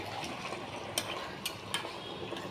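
Malabar spinach with potato and pumpkin stir-fried in a pan with turmeric, a steady sizzle running throughout and a few sharp clinks of a spatula against the pan.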